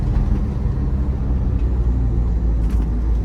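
A Ford Endeavour 3.0-litre SUV pulls hard in third gear to overtake, its deep engine rumble steady and droning inside the cabin alongside constant road noise, with no talking.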